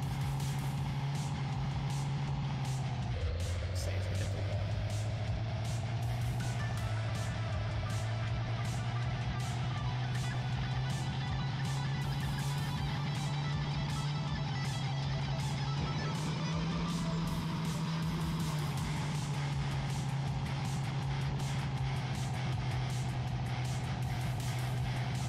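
A steady car engine drone from the racing video game OutMode, holding an even low hum with a few shifts in pitch as it drives, and no talking over it.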